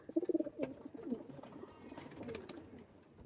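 Flying pigeons kept for sale coo in soft, rounded bursts close by, with a quick run of throaty calls at the start and more murmuring coos after.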